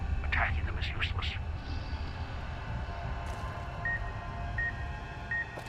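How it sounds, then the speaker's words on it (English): A security collar beeps in Fallout: New Vegas, sounding three short, evenly spaced electronic tones late in the clip over a low game background, after brief muffled voice-like sounds at the start. "I hear the beeping."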